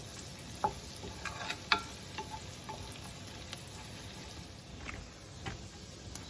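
Food sizzles while cooking in a pan, a faint continuous frying crackle with scattered small pops and ticks, steady throughout with no voices.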